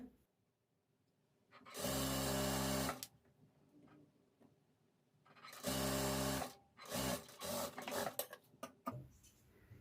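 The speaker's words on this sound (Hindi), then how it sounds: "लेस जितनी दिखानी है बाहर की तरफ उतने में ही सिलाई लगाना है" Sewing machine stitching lace along the edge of a garment sleeve, two loud close bursts of fast running stitches separated by a quiet pause, followed by shorter uneven stitching runs and handling noise.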